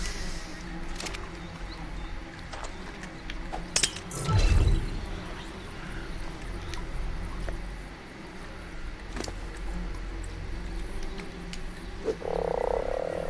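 Frog croaking in ARK: Survival Evolved on Crystal Isles, a short low burst near the middle over a steady game ambience of water and faint clinks, with occasional brief ticks and a bright tone near the end.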